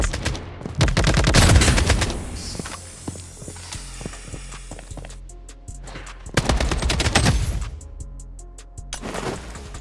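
Gunfire in the mobile shooter Blood Strike, with rapid automatic bursts and single shots rattling loudly alongside footsteps and in-game effects, repeated across the clip with no talking.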